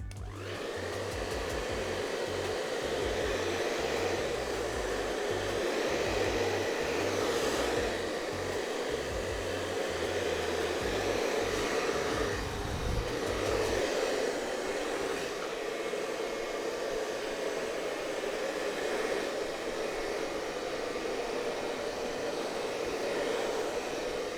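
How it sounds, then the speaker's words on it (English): A hair dryer on its cold setting blows steadily at close range, a constant airy whoosh with a low motor hum that wavers slightly in the first half. "So I'm going to turn my hairdryer to cold."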